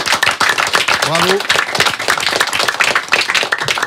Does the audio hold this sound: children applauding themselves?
yes